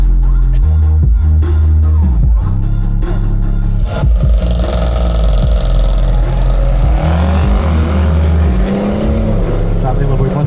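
Drag racing cars, including an Audi, launch down a modern drag strip with a deep, loud engine roar that builds and sweeps past, heavy low rumble throughout and no talk over it.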